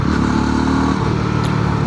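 A 2026 Yezdi Roadster Red Wolf motorcycle accelerating: a loud, close, steady engine drone with a rough, throbbing exhaust note that rises slightly, heard on its own without speech.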